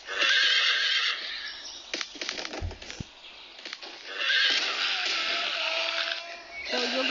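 A horse in a wartime video game lets out repeated loud neighs and whinnies with some hoof clatter, and players talk over parts of it.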